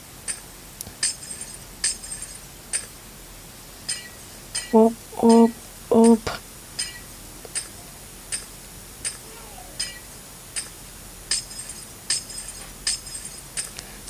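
Glass blocks shatter one after another in Minecraft, a regular series of short, bright clinking breaks spaced about half a second apart. Midway a few louder, deeper clunks break the pattern. The breaks are fairly close and sound with no talk over them.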